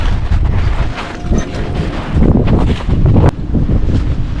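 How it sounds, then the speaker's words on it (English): Strong, gusty wind buffets the microphone atop Rendezvous Peak, a continuous loud roar that swells in surges with no speech. "very windy today."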